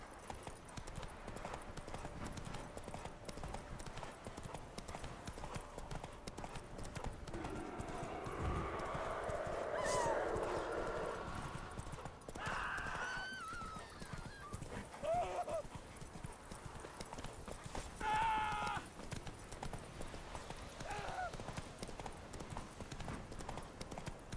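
Horse hooves clip-clop in The Witcher 3: Wild Hunt, a quiet rhythmic trot under game ambience with a brief whinny-like sound and faint voice.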